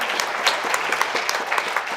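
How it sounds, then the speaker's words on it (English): Church congregation giving a round of applause for a guest during a Sunday morning service, a dense, loud burst of many hands clapping close by, steady throughout with no talk over it. "Let's give a very special round of applause to our guest today, Charlie Hall."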